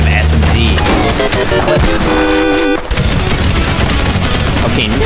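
Dense, loud SMG and pistol gunfire in Fortnite, with rapid bursts, booms and tonal game effects layered into a continuous chaotic barrage that briefly cuts out near the middle.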